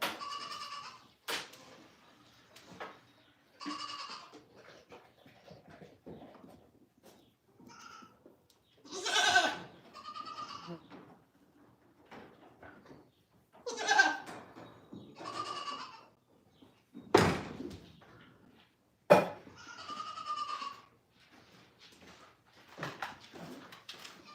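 Goats bleating on a goat farm in a series of loud, wavering calls spread over a quiet background, with occasional sharp knocks and rustling between them.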